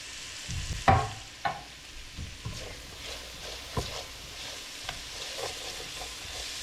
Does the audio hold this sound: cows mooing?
no